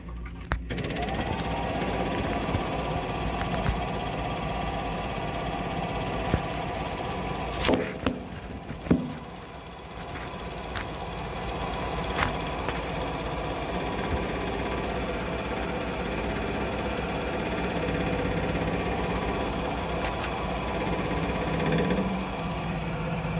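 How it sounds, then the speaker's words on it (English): An electric fuel pump on a 1989 Ford F53 chassis runs with a steady, continuous mechanical hum and buzz, close and constant, interrupted by a few sharp clicks and knocks. "I'm going to try plugging in the pump."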